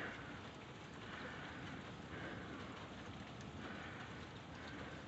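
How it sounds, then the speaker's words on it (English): Steady rain pours during a thunderstorm, a dense continuous wash of drops heard at a distance and fairly faint, with no distinct thunder crack standing out. "Our thunder is back."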